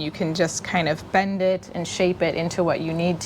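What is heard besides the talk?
No everyday noise stands out behind the speech.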